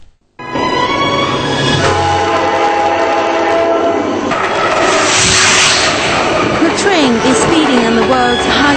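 A train on the Qinghai-Tibet Railway, the world's highest line to Lhasa, rumbles loud and close with a sustained horn tone and steady rolling rail noise. A voice is heard faintly underneath.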